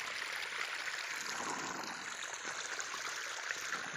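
Irrigation water runs steadily into sugarcane furrows with a soft, continuous trickling and gurgling wash. It is fairly faint and close, unbroken for the whole stretch, with no voices.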